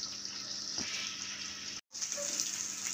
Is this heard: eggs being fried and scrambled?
yes